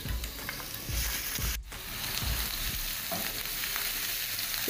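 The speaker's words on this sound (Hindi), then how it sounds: "अब एक पैन में 3 टेबलस्पून ऑयल डालूंगी और इसमें अदरक लहसुन चॉप किया हुआ डाल दूंगी।" Chopped ginger and garlic sizzling loudly in three tablespoons of hot oil in a pan, a dense steady crackle with a few stirring scrapes, close and uninterrupted by speech.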